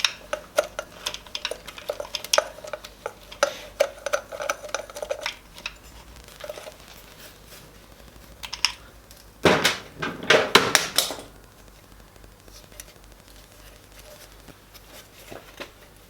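Oil return hose being removed from a Peugeot 406 DW12 diesel engine during cylinder head removal: a run of small ticking and clicking metallic handling noises, then a brief louder burst of rattling and clunks, close by in a quiet workshop.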